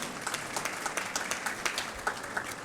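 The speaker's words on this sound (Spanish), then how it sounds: "un aplauso por favor" Audience applause for a panelist at a national accreditation congress, a steady wash of many hands clapping throughout at moderate, somewhat distant level, with no talking over it.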